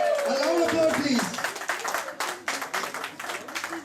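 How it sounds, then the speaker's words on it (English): Voices cheer and talk briefly at a school batch reunion with teachers, then a crowd claps in a scattered burst of applause that carries on to the end. "A loud applause, please."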